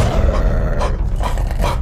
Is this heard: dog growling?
yes